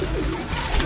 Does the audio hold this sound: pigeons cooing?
yes